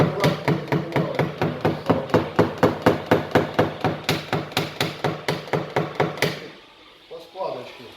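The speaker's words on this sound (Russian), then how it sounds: "Я аккуратно забивалочкой." A flat knockdown tool is tapped against a car body panel to work out a dent, giving a fast, even series of sharp knocks close up that stops near the end, followed by faint rustling.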